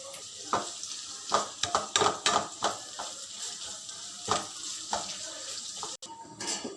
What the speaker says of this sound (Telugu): వీటన్నిటిని లైట్గా ఫ్రై చేసేసుకోండి.